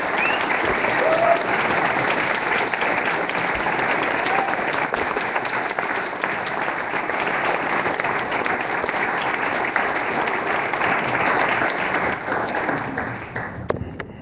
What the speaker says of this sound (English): Given her a standing ovation.